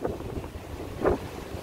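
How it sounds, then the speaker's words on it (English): Wind gusting outdoors on a downtown Chicago street in July, a steady rumbling buffet against the microphone with a stronger gust near the end, no talking. "it's windy."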